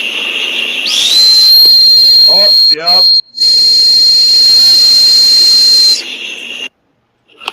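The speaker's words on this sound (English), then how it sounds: "sent me a recording of his dog whistle, so I'm going to go ahead and play that real quick" A recorded dog whistle is played back as a loud, piercing, steady high tone lasting about five seconds, briefly cut by short voice remarks and a dropout before it stops.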